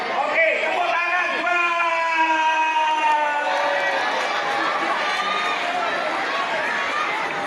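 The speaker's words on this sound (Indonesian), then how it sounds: "Oke, tepuk tangan." Audience applause fills a hall at an Isra Mi'raj religious gathering at an Indonesian madrasah, a dense steady patter running throughout with many young voices shouting and cheering over it.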